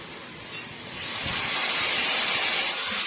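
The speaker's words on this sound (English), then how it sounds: "Now the cabbage has started sizzling" Steady sizzling hiss of cabbage frying in a hot pan, swelling louder after the first second and holding a bright, crackling spray of sound.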